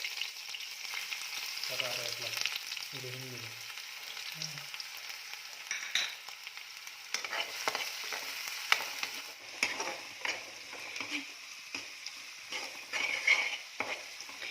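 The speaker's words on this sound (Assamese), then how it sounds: "তেলখিনি গৰম হোৱাৰ পিছতে কুটি লোৱা পিয়াজখিনি মই এতিয়া ইয়াত ঢালি দিম" Chopped onions sizzle in hot oil in a pan, a steady close frying hiss with crackles and occasional stirring, briefly joined by a few soft tones near the start.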